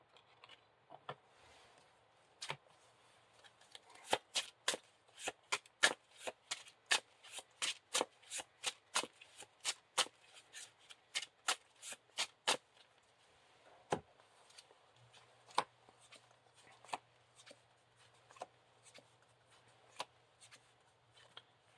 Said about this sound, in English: Shuffle the encounter discard pile into the encounter deck.